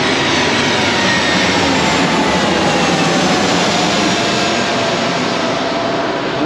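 A fixed-wing airplane landing at Key West Airport, heard as a loud, steady broadband engine and wind roar with a faint sliding whine, constant throughout and close by.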